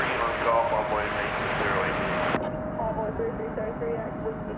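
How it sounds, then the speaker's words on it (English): An American Airlines jet arriving from Denver rumbles at an airport as a broad, steady roar, with faint radio chatter over it; the sound cuts brighter to duller midway. "We're going to now watch American Flight 2612 arriving from the mile-high city of Denver."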